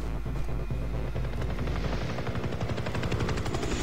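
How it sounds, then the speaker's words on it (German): Helicopter in the shooter game Far Cry 3, a loud, rapid rotor chop that continues throughout, with bursts like gunfire mixed in. "Der Helikopter."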